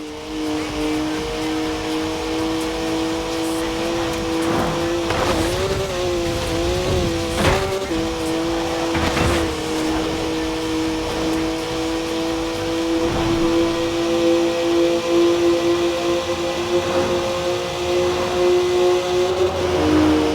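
A BMW driven in Forza Horizon 4 holds a steady engine drone with shifting pitch as it revs and accelerates, loud and continuous for the whole stretch, with a few brief transient knocks along the way.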